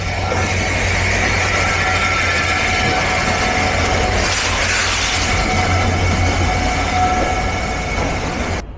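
Nilsagar Express pulled by an ALCO locomotive rolling into Ibrahimabad Railway Junction platform on a cloudy day, a loud continuous rumble of wheels and carriages with a low engine drone, faint squeals over it.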